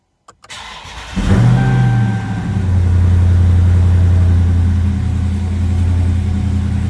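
A Dodge Charger 392 Widebody's engine cranks after a couple of faint clicks, catches with a loud roar, then settles into a deep, steady, rumbling idle that stays close and strong to the end.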